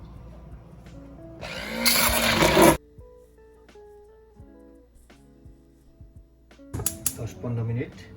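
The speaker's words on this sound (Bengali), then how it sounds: "ব্লেন্ডার আছে, আমি কিছু অনিয়ন অ্যাড করলাম" An electric kitchen blender whirs briefly while chopping onions for chicken tikka masala, a loud burst lasting about a second, followed by quieter kitchen clatter and a person talking.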